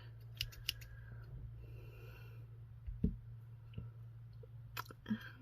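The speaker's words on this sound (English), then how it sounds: "Here's a straight pair of scissors." Quiet, scattered snips of straight scissors cutting thin strips for nail art, a few sharp clicks spaced apart over a low background hum.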